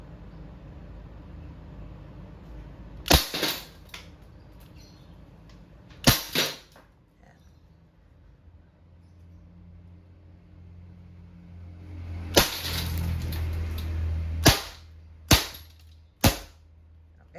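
An Umarex Colt Defender Compact CO2-powered non-blowback air pistol fires seven sharp, loud cracks in irregular bursts, two early shots and a closer cluster of five later, over a quiet background.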